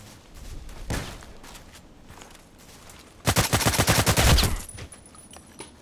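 Gunfire in the online shooter Contract Wars: one sharp shot, then a loud, rapid automatic burst lasting about a second, close and punchy against a quiet background.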